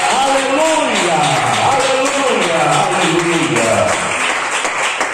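A church congregation claps steadily in a continuous wash of applause while a preacher's amplified voice talks and praises over it, loud and sustained throughout.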